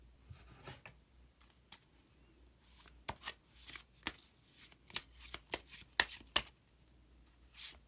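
Tarot cards are shuffled by hand before a hidden card is drawn, giving a run of crisp riffling and flicking bursts that quicken and grow louder toward the end, close and with no talk.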